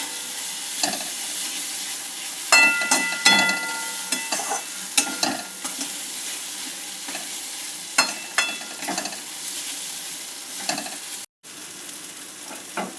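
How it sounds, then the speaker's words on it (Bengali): Spices and garlic paste are stirred and fried in a pan for a chicken dish: a continuous sizzle broken by irregular scraping strokes and soft knocks of the spoon, up close with no voices. "এবার একটু এটা নেড়ে নিয়ে ভালো করে কষিয়ে নিয়ে রসুন বাটাটার সাথে মশলাটা"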